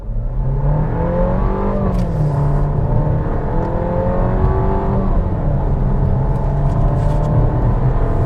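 A 2025 VW Tiguan SEL pulls away from a standing launch, its engine note climbing steadily through the gears in one long, loud, continuous drone with rising harmonics, heard from inside the cabin without talk.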